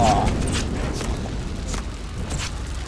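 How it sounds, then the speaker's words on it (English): An explosion destroys tanks in Men of War Assault Squad 2, a deep rumbling boom that fades into a lingering low roar with scattered debris crackles. "now that's gonna blow up these three vehicles"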